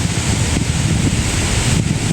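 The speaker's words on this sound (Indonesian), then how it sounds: "Kalian dengar nggak suara angin tuh kayak gitu ngerinya" Strong wind blowing hard across the microphone, a loud, constant rumbling roar with gusty buffeting and no break.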